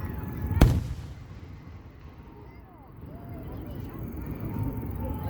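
A single sharp, loud firework bang early on, then a low rumbling backdrop of distant crackles and booms.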